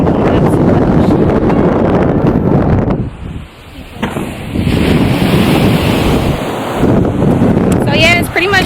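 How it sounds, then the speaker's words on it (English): Ocean surf rolling onto a beach in Puerto Rico, a steady loud wash of breaking waves with heavy wind buffeting the microphone, easing briefly midway before surging again. "And we're walking up to the ocean."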